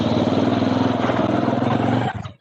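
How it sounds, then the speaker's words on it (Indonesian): A motorcycle engine runs close to an open microphone during an online computer class, a steady droning hum for about two seconds before it cuts off abruptly. "saya dengar suara motor ini"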